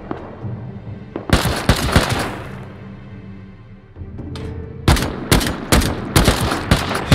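Gunshots in the video game Rust, two clusters of rapid, loud automatic bursts, close and sharp, separated by a quieter stretch of low background rumble.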